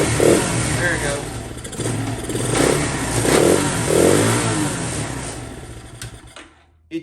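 An old motorcycle engine with its original carburetor runs on a weak battery, a steady loud putter with a few rising revs, then cuts out abruptly near the end.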